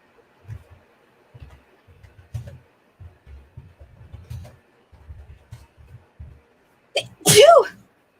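A single loud, close sneeze bursts out near the end, following a stretch of soft low thumps and faint murmuring.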